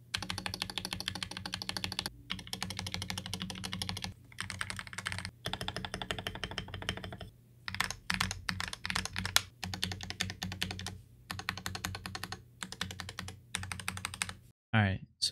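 Continuous clattery typing on a modified GK64/GK61 keyboard with brief pauses, close and fairly loud, ending with a short different burst of modifier key presses.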